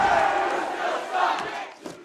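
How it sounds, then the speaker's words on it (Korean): A wrestling arena crowd roars and yells in sustained cheering for a veteran wrestler in the ring, a loud, dense wall of voices with rising and falling swells. "노련한 경기 운영으로 사람들의 환호를 이끌어내는 랜디."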